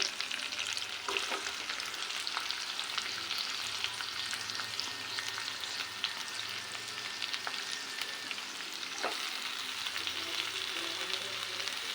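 Already-boiled broad beans frying in a pan, a continuous moderate sizzle broken by repeated scraping and clinking as they are stirred, heard alone without talk.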